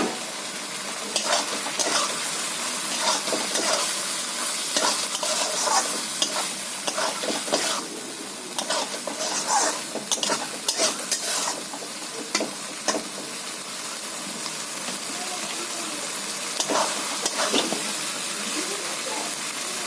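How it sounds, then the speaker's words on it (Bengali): Okra tipped into fried masala paste for a prawn curry and stirred in a hot pan, with constant sizzling and a dense run of spatula scrapes and clacks, close and loud throughout. "মশলাটা কষানো হয়ে গেছে, আমি ভেন্ডিটা দিয়ে দিচ্ছি"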